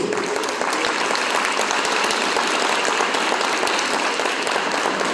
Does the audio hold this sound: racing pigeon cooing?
no